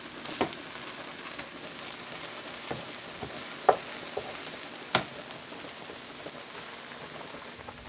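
Meat and onions fry in a pan, slightly burning, with a constant close sizzle broken by a few sharp pops and crackles.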